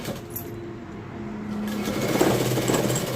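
Electric sewing machine running steadily as it stitches a folded fabric strip straight onto flat plates, a continuous motor whir at close range with no talk.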